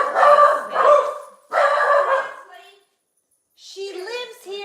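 Dogs bark in a few loud, close bursts with short gaps, then higher yips and whines follow after a pause, with a voice mixed in.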